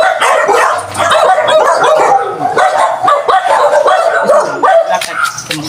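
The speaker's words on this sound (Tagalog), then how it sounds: "daming aso guys ah" Many dogs bark and yip together close by, a dense, overlapping chorus of sharp barks with a few whimpers that keeps going without a break.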